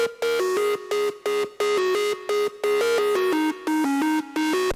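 Crunchy melodic drum and bass synth lead, recreating a melody, plays a bright, buzzy run of detached notes in a steady rhythm, loud and up close with no other sounds.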